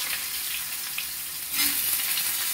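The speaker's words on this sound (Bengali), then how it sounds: "এইভাবে বেগুনটা ছেড়ে দেবেন।" Eggplant slices drop into hot frying oil, and the steady low sizzle swells into a louder, brighter crackle partway through, heard up close with no talking.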